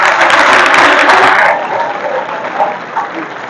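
An audience applauds loudly at a youth group gathering, honouring Lord Shri Ram; dense clapping fills the first half, then cuts to a quieter tail with faint scattered sounds.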